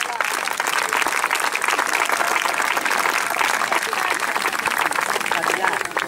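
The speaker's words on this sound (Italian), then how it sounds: "facendo un bel applauso a Sor Cuforesu e Ismo Staglionis di Sestu." Loud, dense applause from a crowd at a Sardinian carnival performance of Is Mustayonis and S'Orku Foresu from Sestu, continuous and close for about six seconds, with crowd voices mixed in.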